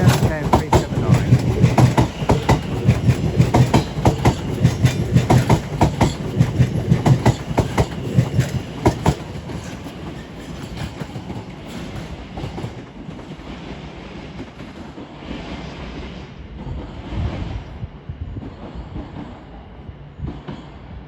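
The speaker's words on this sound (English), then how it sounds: "Now heading off is the 1430 Lioness Line service to Watford Junction" A Class 710 Lioness Line electric train pulls out of a London terminus, its wheels clattering loudly and rhythmically over rail joints before the sound thins out and fades as it draws away.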